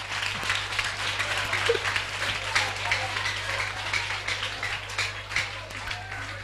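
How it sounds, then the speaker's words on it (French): A church congregation at a school-term protection prayer service breaks into sustained applause and cheering, a dense, steady wash of clapping with voices mixed in. "acclamez très fort"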